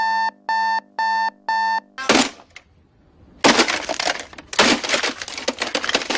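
An electronic alarm clock beeps in four quick, even pulses, then gives way to loud crashing and rustling noises.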